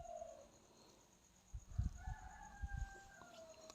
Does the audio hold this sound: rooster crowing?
yes